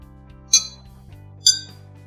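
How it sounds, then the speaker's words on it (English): Drinking glasses struck to make clinking sounds: two bright, ringing taps about a second apart, clear and close over a faint low background hum. "Now I'm going to use these 3 glasses to make the same sound as Sahana did at home."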